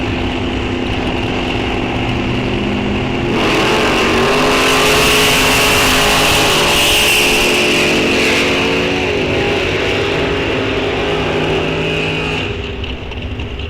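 A Chevy II drag race car at a bracket race roars loud and close with a sustained, surging engine note that builds sharply a few seconds in, holds at full volume, then eases off near the end.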